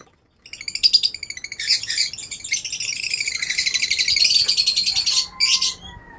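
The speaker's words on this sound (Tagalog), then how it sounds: "ibon natin kasi gusto na sila kumain na rin sila" Hungry pet birds chirping loudly and close, a dense rapid stream of high shrill tweets that builds and runs almost continuously before a brief pause and a final burst.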